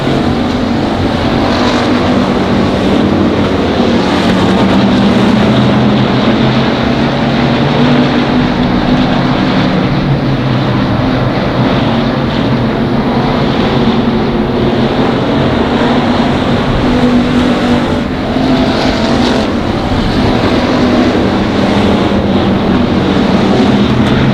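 Race cars at Monarch Motor Speedway roar down the front straightaway, a loud, unbroken engine drone with wind buffeting the microphone and no voices.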